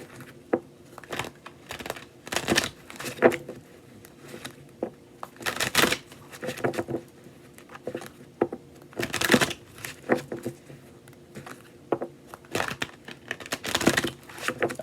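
A Thoth tarot deck is shuffled and cut by hand, producing soft, close riffling and card-slapping bursts at irregular intervals with quiet pauses between them.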